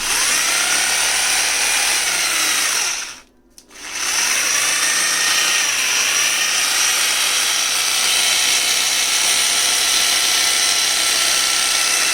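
A Buildskill BGBH20RE rotary hammer drill runs with a loud, steady high-pitched motor whine, briefly stops for a moment, then starts up again and keeps running continuously.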